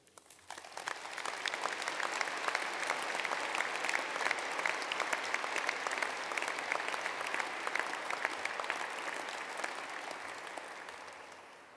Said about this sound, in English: may we all please start by collectively applauding our graduands